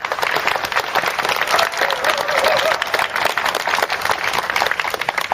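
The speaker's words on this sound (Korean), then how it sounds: "큰 박수 부탁드립니다" Loud, sustained applause from a crowd of union members and supporters at an outdoor labor rally in Jeonju, steady dense clapping throughout with a few cheers mixed in.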